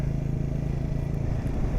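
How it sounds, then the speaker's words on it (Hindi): Motorcycle cruising downhill on the Khardung La pass road, its steady low engine drone and wind rumble continuous and close throughout, without noticeable changes in pitch. "बाइक अपने आप ही क्रूज़ कर रही है"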